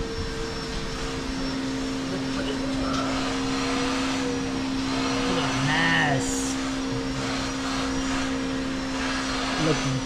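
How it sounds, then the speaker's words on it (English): A steady droning motor hum of a vacuum cleaner cleaning a car runs throughout at moderate level, with faint background sounds over it. "Don't mind the vacuum cleaner."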